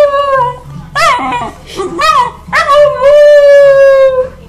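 A West Highland White Terrier howls and yips along to the Humpty Dance in a series of wavering, drawn-out tones, close and loud, ending in one long sustained howl; a person speaks briefly.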